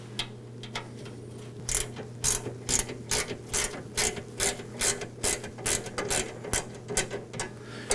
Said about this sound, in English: all I'm going to do is loosen the screws on both sides